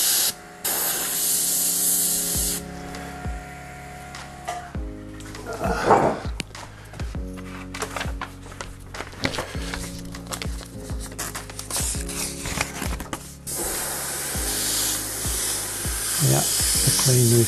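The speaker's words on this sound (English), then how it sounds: "The air is definitely coming out. And so is the cleaner." A Badger Sotar 2020 airbrush spraying cleaner fluid, giving loud, close hissing bursts of air and spray that start and stop several times, with no talking.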